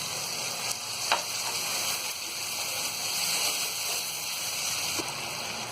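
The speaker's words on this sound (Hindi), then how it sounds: "आधा कप के करीब डालेंगे हम इसमें पानी" Half a cup of water poured into sizzling powdered masala in a pan for malai kofta gravy, giving a continuous frying hiss and bubbling with a couple of faint utensil clicks.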